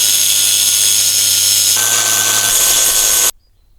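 Angle grinder cutting metal to make carburetor mounting holes on a 1984 Honda PX 50 moped, a loud, steady high-pitched whine that shifts tone partway through and then stops abruptly.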